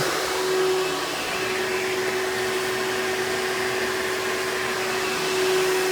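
A Hoover Convertible Elite Ultra direct-air upright vacuum runs close by with a loud, steady motor roar and a constant whine, alone without speech.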